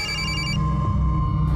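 A telephone rings for an incoming call, a loud, close electronic trill that repeats in quick pulses and then cuts off near the end.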